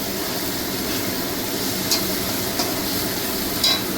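Vegetables for egg chicken fried rice fry lightly and are stirred in a pan, giving a steady loud sizzle with a few brief scrapes, and no one speaks.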